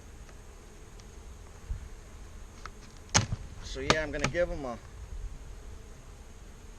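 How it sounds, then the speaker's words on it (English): Honey bees hum steadily around an open hive with a honey super, a low continuous drone close by, with someone speaking briefly over it. "Look at all the bees in the honey super now."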